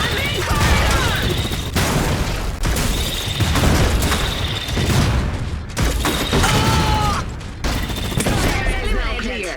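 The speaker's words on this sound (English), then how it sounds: "The Kolokol uses explosives to deal damage to entire enemy infantry squads at once" Dense battle noise from the Iron Harvest strategy game as a Kolokol mech fires close-range explosives: a steady barrage of loud, overlapping blasts and gunfire with mechanical clatter runs without pause, and voices break in now and then.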